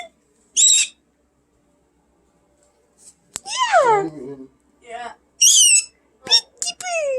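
A pet bird makes short whistling calls and speech-like chirps between pauses, close and clear, while a person talks to it nearby.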